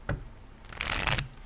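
Tarot cards are riffled and shuffled in two quick papery bursts, close up, with short pauses between; no talking.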